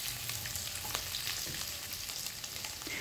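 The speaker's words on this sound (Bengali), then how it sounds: "এবার দিয়ে দেব কুচিয়ে রাখা রসুন" Chopped garlic sizzling in hot oil in a pan, a steady close frying hiss with faint crackles running throughout, no voices.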